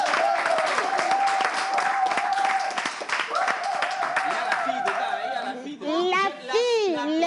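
An audience applauds the boys at a lively event, with sustained clapping and crowd noise mixed with children's voices and excited chatter, close and fairly loud throughout.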